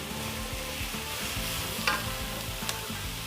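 Sliced ginger and chopped garlic fry in a pan with onions during pork vindaloo cooking, giving a steady, fairly quiet sizzle broken by soft stirring scrapes and a couple of sharper clicks; no voices.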